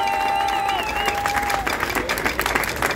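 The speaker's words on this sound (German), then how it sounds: "dafür gratulieren wir jetzt wirklich mit einem riesen Applaus die Bronzemedaille" An outdoor crowd at the Retz pumpkin festival applauds bronze medal winners, many hands clapping in a dense, rising burst that follows a sustained tonal sound, with the clapping growing louder and more scattered toward the end.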